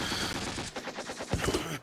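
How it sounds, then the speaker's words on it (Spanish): Gunfire in a war film battle scene, a loose burst of shots cracking out in an uneven rapid volley over a busy, noisy background. "Hobrag, quita el trasero porque le están disparando"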